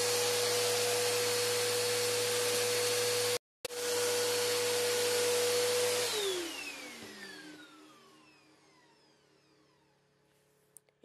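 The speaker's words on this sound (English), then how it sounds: "I just got done vacuuming this room normally" A Bissell Rewind Premier Pet bagless vacuum cleaner runs loudly with a steady whine and hum, briefly cuts out, resumes, then winds down with a falling pitch to quiet.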